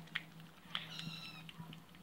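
A house cat meows faintly a few times, short high cries spaced apart over a quiet indoor background.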